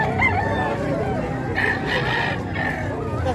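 A rooster crows twice, loud and drawn out, at a busy chicken market in Padre Garcia, Batangas, with crowd murmur and people talking over it.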